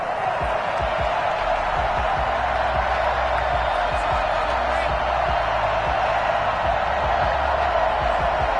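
A stadium crowd roars in the video game Madden NFL before a Cleveland Browns versus Chicago Bears matchup, a loud continuous wash of cheering noise with a commentator talking over it.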